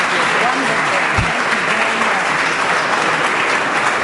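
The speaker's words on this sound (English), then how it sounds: "A round of applause for their insight." Spectators at a congressional 9/11 hearing applaud the panelists, a dense, even roar of clapping throughout with no clear gaps.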